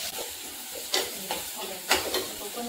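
Two large tomatoes sautéing in a pan for a South Indian meal, a soft steady sizzle with a few louder stirring scrapes spaced through the short stretch, close and fairly quiet, no talk.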